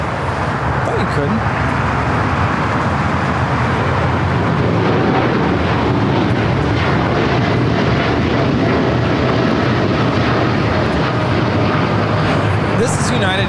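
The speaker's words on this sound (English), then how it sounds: "This is United Airlines 1591 taking off to Newark on the 787-9 Dreamliner" A United Airlines Boeing 787-9 Dreamliner taking off from LAX for Newark, a loud broadband jet roar that stays continuous and close throughout, with people talking under the engine noise.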